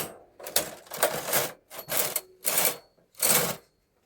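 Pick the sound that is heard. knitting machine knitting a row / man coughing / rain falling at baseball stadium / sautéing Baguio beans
knitting machine knitting a row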